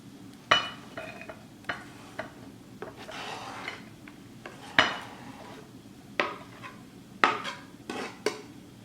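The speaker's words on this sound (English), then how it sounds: "So now I'll take it off my cutting board and place it on my plate." Diced food being moved from a cutting board onto a plate while cooking creamy beef kabobs, giving a series of sharp clinks and scrapes of utensil on board and plate at irregular intervals, close and fairly quiet, with no talking.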